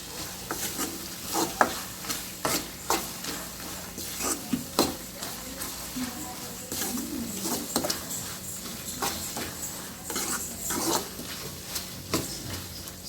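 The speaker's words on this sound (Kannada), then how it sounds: "ಇದನ್ನು ಹಿಂಗೆ ಚೆನ್ನಾಗಿ ತಿರ್ಸ್ತಾ ಇರಬೇಕು" Repeated scraping and rustling of a spoon stirring dry puffed rice in a pan, rhythmic strokes over a soft sizzle, no talking.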